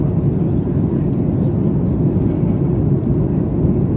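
Steady, loud cabin drone of an airliner cruising at altitude over mainland Spain, a continuous low roar with no breaks and no talk.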